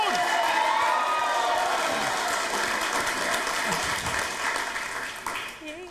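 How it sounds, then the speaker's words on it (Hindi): A studio audience applauds and cheers to welcome actress Janhvi Kapoor on the Switch Cafe interview set, a dense, steady wave of clapping with whoops that fades slightly toward the end, with voices mixed in. "जोरदार तालियां हो जाए वो जानवी कपूर"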